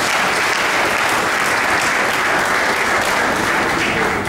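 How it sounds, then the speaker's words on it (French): Dense, steady applause from a large audience at a handball ceremony for the women's African Cup of Nations, loud and continuous from start to finish with no voices over it. "il a une fois de plus bétonné la 26e édition de la Coupe d'Afrique des Nations sous vos applaudissements"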